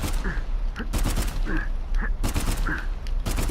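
Rapid gunfire bursts from shooting at enemies in Uncharted 4, repeated sharp volleys in an uneven rhythm over a constant game background.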